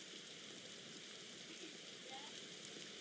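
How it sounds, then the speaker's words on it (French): Rain falls in a video game as a faint, steady hiss that stays even and unbroken from start to finish. "Allez, il peut arrêter de pleuvoir."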